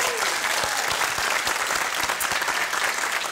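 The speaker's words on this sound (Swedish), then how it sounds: "Nu tycker jag att vi ger en rungande applåd för kvällens gäster!" Loud, dense clapping from a television game show studio audience, even and continuous throughout.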